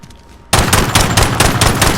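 Pistol gunfire in Call of Duty Modern Warfare, starting abruptly after a quiet moment and continuing as loud, closely spaced shots with little gap between them.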